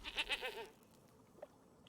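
Goat bleat from the Magic: The Gathering Arena video game, a single short wavering cry at moderate loudness, followed by near silence with one faint blip.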